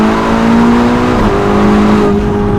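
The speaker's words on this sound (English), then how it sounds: "relentless Novitec SF90 1109 horsepower, and it's been pretty much straight pipe" A Novitec-tuned Ferrari SF90 supercar of 1109 horsepower with an essentially straight-piped exhaust revs hard on a South African street, a loud, sustained, buzzing engine howl that dips and climbs in pitch, close and alone.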